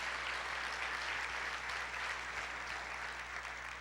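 A church congregation applauds in a continuous, even wash of many hands clapping, sustained and moderately distant over a low background hum.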